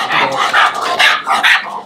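A dog barks in a short burst of several close, loud barks with a growly edge, as a female Rottweiler meets a male bully breed dog.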